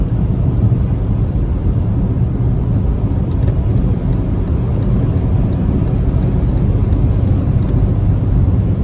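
A car engine drones steadily at a loud, even level while the car overtakes slower cars on a desert highway between Las Vegas, Nevada and Death Valley, California, with road rumble throughout and no voices.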